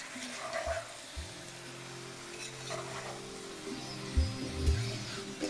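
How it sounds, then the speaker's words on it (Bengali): Chicken and onions sizzle in a hot pan while a spoon scrapes and stirs them, with a few louder knocks against the pan over a steady frying hiss; no talking. "ব্যাস এবার এটাকে আমি ভালো করে মিশিয়ে নিচ্ছি।"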